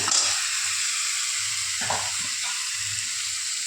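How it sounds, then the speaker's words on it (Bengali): Ground spice masala fries in oil in a pan while cooking katla fish curry, a loud continuous sizzle heard up close, with a couple of brief stirring scrapes and no talking. "তো মশলাটা সুন্দর বেশ লালচে ভাজা হয়ে গেছে"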